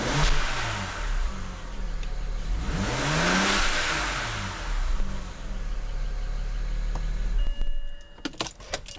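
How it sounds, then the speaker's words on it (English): A BMW E90 fitted with dual cone air intakes revs its engine, the pitch climbing and falling in a steady rising-and-falling sweep over a continuous low rumble, ending with a few sharp clicks. "Let's rev the engine."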